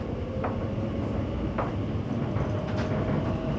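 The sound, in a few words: Elizabeth line Crossrail train running to Abbey Wood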